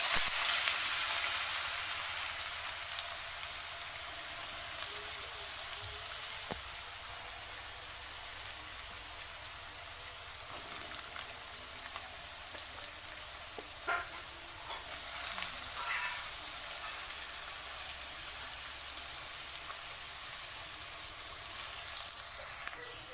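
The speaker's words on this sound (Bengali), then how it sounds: "আলুটা ভাজা হয়ে এসেছে" Potatoes fry in hot oil in a wok, a faint, continuous crackling hiss like light rain that holds steady with scattered small pops and no voices.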